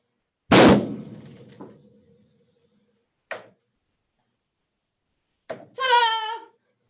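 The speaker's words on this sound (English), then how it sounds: "Here we go with our carbide cannon." A sharp loud bang from a carbide cannon, ringing briefly, followed by a softer thump, another short pop, and a bright whistling squeal near the end.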